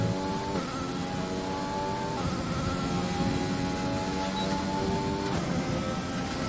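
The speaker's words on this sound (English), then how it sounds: "You can hear the engine note. It's very, very low now." Steady, loud F1 car engine drone from the F1 2020 racing game during practice at the Dutch Grand Prix, a continuous low hum with slight pitch shifts as the car holds speed, heard alone without talk.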